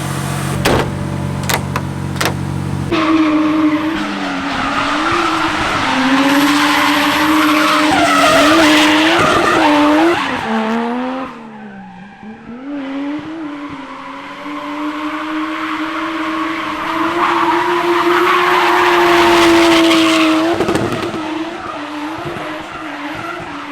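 Nissan S15 drift car with a Toyota 1JZ engine skids through a long run, with loud, close tire squeal and a screaming engine. The car fades briefly mid-run, then its squealing and revving return strongly.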